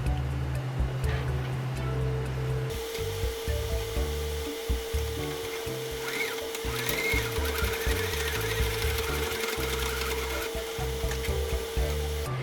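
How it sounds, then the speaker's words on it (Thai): A sewing machine stitches a fabric plait hairband closed with a close, continuous mechanical whirr and rapid needle chatter that runs steadily throughout, with no talking. "จากนั้นก็ทำการ เย็บปิดได้เลยค่ะ"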